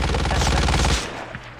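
Rapid automatic gunfire from a Call of Duty Mobile battle royale match, a loud sustained burst of shots that cuts off after about a second, leaving quieter game ambience.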